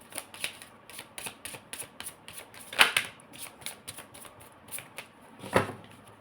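Tarot cards are shuffled and drawn, making soft, rapid papery flicks and taps with a couple of sharper snaps, quiet and close with no voices.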